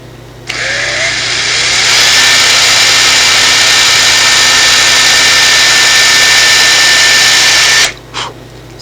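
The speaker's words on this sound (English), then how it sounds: "I'm going to re-drill a hole here again, so I can drill the plastic out inside of my Qui Gon saber" A power drill re-drills a hole through the plastic inside a homemade Qui-Gon lightsaber hilt, a loud, steady, high whine that ramps up and holds for about seven seconds, then stops abruptly with a brief final burst.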